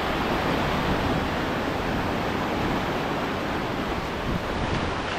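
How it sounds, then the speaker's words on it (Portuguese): Ocean surf rolls onto a beach at Arraial do Cabo, Rio de Janeiro, as a steady, loud wash of broadband noise, mixed with wind buffeting the microphone and with no voices. "Essa praia é muito bonita"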